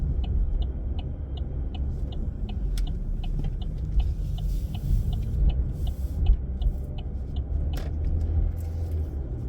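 A car drives a G2 road test route around North Service Road and Kerns Road in Burlington, giving a steady low engine and road rumble with a faint regular ticking, likely the turn signal, over it.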